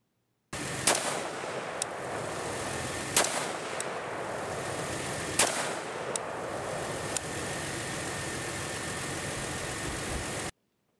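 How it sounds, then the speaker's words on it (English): Three rifle shots fired to confirm the zero of a weapon fitted with a computational optic, each a sharp loud crack spaced a couple of seconds apart, followed by fainter clicks over a constant engine-like background drone. "the shooter will confirm his corrections with the optic, and then will begin to fire three more shots to confirm his zero"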